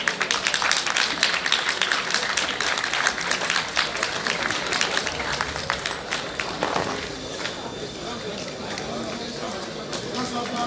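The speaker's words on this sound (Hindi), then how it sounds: "आपकी पुरजोर तालियों में इस्तकबाल कीजिए" Audience applause rising to welcome the Sindh Chief Minister at the opening session of the World Urdu Conference at the Arts Council of Pakistan, a dense, steady roar of many hands filling the hall before thinning slightly toward the end.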